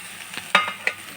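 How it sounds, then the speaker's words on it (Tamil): Mango pieces being sautéed in a pan make a brief soft sizzle with two sharp scraping stirs, close by and without speech. "மாங்காயும் போட்டு ஒரு 2 நிமிஷம் வதக்கிக்கோங்க"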